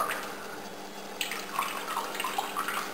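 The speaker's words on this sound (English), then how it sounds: "When the water level decreases, the valves get activated automatically and fills the required amount of water." Water running steadily into a hydroponic system as an automatic ball-valve refill opens, a continuous close splashing flow with brief gurgles and drips over the top, no voices.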